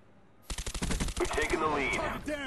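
Rapid bursts of automatic gunfire from the Call of Duty Black Ops video game, a loud fast volley of shots followed by continued firing and effects, with a voice briefly audible underneath.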